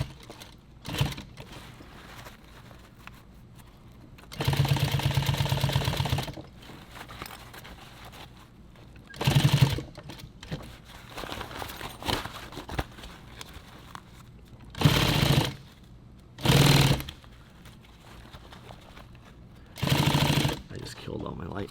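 Sewing machine stitching nylon on a tactical pouch, running in several short loud bursts of rapid mechanical chatter with a person talking between the runs.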